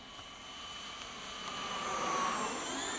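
E-flite Viper 70mm electric ducted-fan model jet with a 12-blade fan on 6S power, flying overhead with a steady high-pitched whine that swells slightly as it passes, heard alone without voices.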